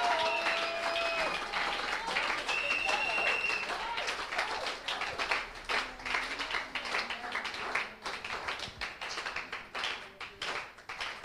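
Church congregation clapping in praise of the Lord during a mothers' worship service, a dense, steady wash of many hands near and around, with singing or music tones threading through and the clapping loosening into separate bursts toward the end.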